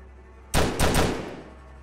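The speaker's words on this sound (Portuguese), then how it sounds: "Tem tiro." A quick burst of game gunfire in Stick Em Up: two or three sharp, loud shots in rapid succession, fading into a short tail, with no talk over them.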